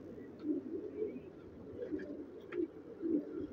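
Shirazi pigeons coo softly in repeated low, rolling phrases, fairly faint against a quiet background, with no talking.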